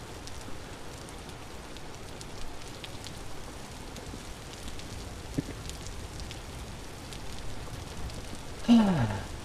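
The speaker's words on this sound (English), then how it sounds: "Not that we can hear it, because it's super freaking rainy." Heavy rain in the video game Vintage Story falls as a steady, dense hiss with scattered drop patters, continuous throughout, and a brief tonal game sound near the end.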